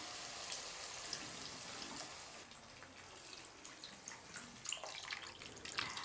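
Water is poured into a pan while making rava kichadi, a soft continuous splashing and trickling that stays fairly quiet, with a few brighter splashes near the end.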